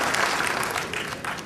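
Audience clapping at a university convocation ceremony at BIT Patna, a dense, even wash of applause that tapers off slightly toward the end.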